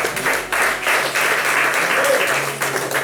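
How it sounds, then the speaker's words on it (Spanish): Applause during a church service, a dense wash of many hands clapping in the congregation, sustained and fairly loud for a few seconds with some voices mixed in. "Denle un aplauso al Señor,"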